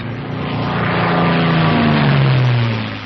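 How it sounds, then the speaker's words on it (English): A North American P-51 Mustang propeller fighter in flight, its piston engine droning loud and close in a steady roar, with low tonal harmonics gently sliding in pitch and no talk over it. "The plane feels normal now that it's off the ground."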